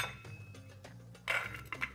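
A metal lid is set onto a pot of golden Indian basmati rice in a kitchen, giving a few faint clinks and a brief metallic clatter near the end.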